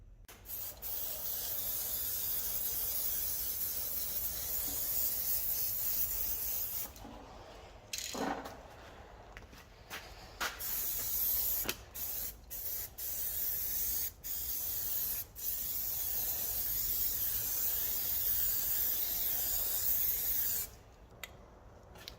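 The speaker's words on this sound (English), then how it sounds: "give some more rust proofing on it" Rust proofing sprayed onto the body of an Alfa Romeo 145 Cloverleaf under restoration, a loud continuous aerosol hiss in long bursts broken by short pauses and a few clicks.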